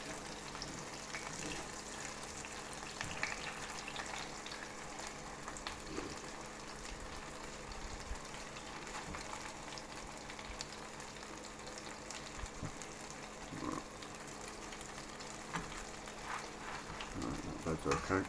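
A cheese and chorizo sandwich sizzles on a grill as rendered fat spits, a steady faint frying hiss with scattered crackles throughout, no voices.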